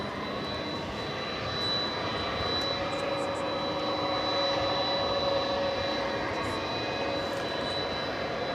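A Boeing 767 jet, Flight 793 bound for Louisville, roughly three years old, passes over DFW Airport at night with a steady, sustained engine roar holding level throughout, swelling slightly midway, with a faint high whine above it.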